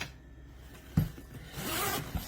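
A tool bag's sturdy, lockable zipper is pulled open with a close rasping zip after a soft knock, then a fainter second drag.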